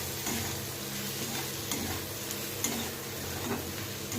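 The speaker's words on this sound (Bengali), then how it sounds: "এইভাবে নাড়াচাড়া করে ভাজা ভাজা করে নেব।" Catla fish and brinjal fry in oil in a pan while being stirred. A soft, continuous sizzle carries a few light scrapes and taps from the spatula, and no one speaks.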